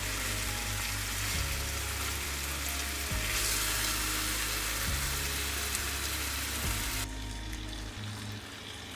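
Salmon fillet frying in a hot pan, a continuous close sizzle and crackle holding steady for several seconds before quieting toward the end, with a low hum underneath.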